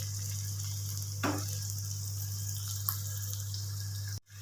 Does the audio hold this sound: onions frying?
yes